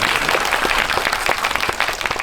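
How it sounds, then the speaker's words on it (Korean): An audience at a film talk event for the Korean film Hunt applauding loudly and steadily in a dense, close burst of clapping. "네, 박수 부탁드립니다."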